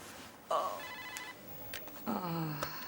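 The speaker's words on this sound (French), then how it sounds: "Et Carmen qui ne décroche pas son portable." A mobile phone rings unanswered, its ringtone sounding in two bursts with a short gap between them, while voices talk faintly underneath.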